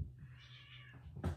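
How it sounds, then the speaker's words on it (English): Cats fighting, a short strained yowl that rises and wavers, followed by a sharper outburst, faint over a low background hum. "Cats are fighting."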